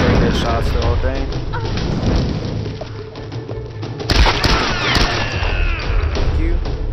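Gunfire and heavy impacts from shooting enemies in Tomb Raider Definitive Edition, a loud, dense run of shots and booms that continues throughout alongside game music, with a player talking over the action.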